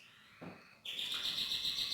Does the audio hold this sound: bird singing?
yes